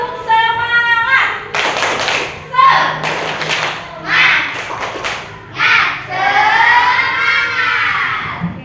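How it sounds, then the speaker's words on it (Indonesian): A primary school class at SDN 15 Talang Kelapa performs a rhythmic spirit clap in bursts of synchronized clapping, loud and close, alternating with a teacher's voice and children chanting between the clap sequences. "sebelumnya kita tepuk semangat dulu supaya bisa"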